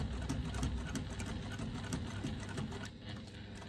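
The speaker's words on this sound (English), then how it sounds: "I'm stitching at 1/8 of an inch seam allowance, so 1/8 of an inch away from the bottom edge of those rear card slots" A sewing machine stitches wallet rear card slots to a paper money panel at a 1/8 inch seam allowance, running in a steady, close, continuous whir with rapid needle clatter throughout.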